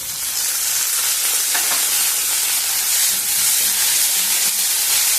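Onions and carrot pieces fry loudly in a pan with a little tomato added for ragi upma, giving a dense, continuous close sizzle and hiss with light stirring, and no talk over it.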